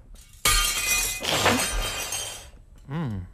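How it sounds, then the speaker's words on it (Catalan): Panes of glass smashed at a shop window, one loud sudden burst of shattering with tinkling fragments trailing for about two seconds, followed by a brief voice. "Trenquem uns vidres, ara."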